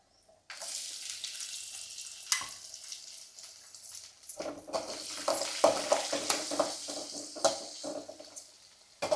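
Sliced onions and curry leaves sizzle in hot oil in a pan while a spoon stirs and scrapes through them in repeated close strokes, the frying hiss rising loudly after the ingredients drop in.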